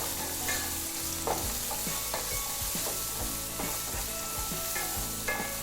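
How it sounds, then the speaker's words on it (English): Cumin seeds and chopped onion frying in a pan, a constant fairly quiet sizzle with rhythmic scraping and stirring strokes of a utensil, no voices. "Now I'm going to add 1 teaspoon of cumin seeds, 1 medium-sized onion chopped, cook this for about 1 minute."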